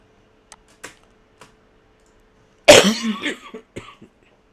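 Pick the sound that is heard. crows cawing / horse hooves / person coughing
person coughing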